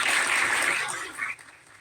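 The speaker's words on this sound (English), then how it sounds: "तालियां बजती रहें" Brief round of applause at a national conference on Atmanirbhar Bharat, a burst of clapping that holds for about a second and then trails away quickly.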